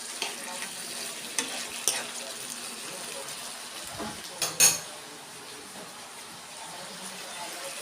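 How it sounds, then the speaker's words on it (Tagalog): Tofu and black beans sautéing in a pan, a soft continuous sizzle with occasional clinks and scrapes of a utensil against the pan, including a louder knock midway, with no talking. "Nagigisa ko na."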